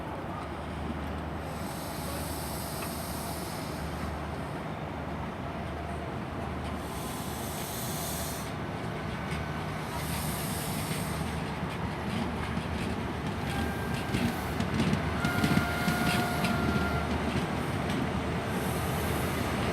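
Class 43 power car 43153 on the rear of a Swansea to London Paddington express departing Patchway, a steady broadband rumble and hiss that builds gradually over about twenty seconds with wind noise and faint wheel squeal.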